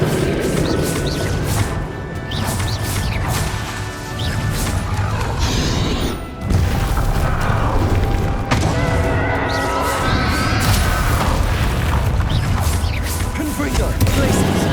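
Fiery Confringo spell blasts crash and thud through a Hogwarts Legacy battle, loud booming impacts and whooshes layered with combat noise, one sharp burst near the six-second mark, while voices speak intermittently over the fighting.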